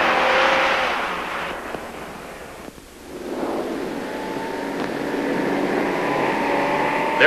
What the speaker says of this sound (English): With all the tremendous surging power of that 327 engine, the Impala is out to an instant lead.